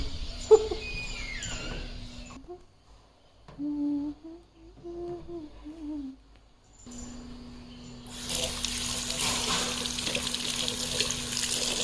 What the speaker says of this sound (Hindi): और मैं अपना हाथ धो लेती हूँ